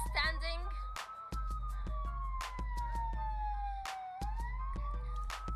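An emergency siren wails in long rising and falling sweeps, loud and close, carrying children to a hospital, with sharp bangs and voices breaking through around it.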